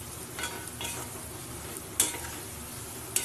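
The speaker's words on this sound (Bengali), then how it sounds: "মশলাটা দিয়ে বেশ কিছুক্ষণ ধরে নাড়াচাড়া করে নেবো" A spoon stirs fried potatoes, onions and spices in a pan, giving a soft steady sizzle with a few sharp scraping clinks of metal against the pan.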